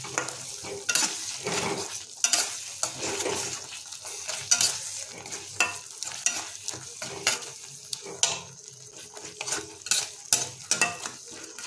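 A spatula scrapes and stirs spices (chili, turmeric, cumin and coriander powder) in a pan over a low flame for jackfruit curry, with steady rhythmic strokes and a soft sizzle, close and fairly quiet with no talking.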